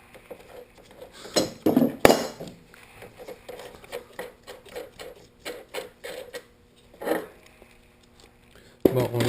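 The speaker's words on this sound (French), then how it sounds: "Ensuite, on dévisse l'écrou." Metallic clinks and scraping taps of a wrench working a nut loose on a chain case, irregular and close, with quieter mechanical handling between the clicks.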